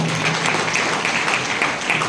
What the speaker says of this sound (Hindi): लखनऊ मिला है आपके लिए हम चाहेंगे कि जोरदार तालियां